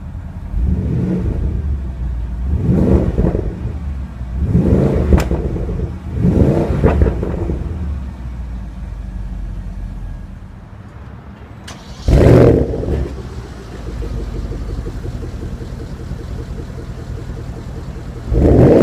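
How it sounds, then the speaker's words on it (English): Several bursts of a 2015 Porsche Panamera Turbo engine revving, heard outside the car. A sharper start-up flare is followed by a steady idle, and there is no speech. "Now let's jump into the driver's seat, start it up, and see how it sounds."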